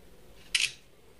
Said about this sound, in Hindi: मैं आपको एक फोटो क्लिक करके दिखाता हूं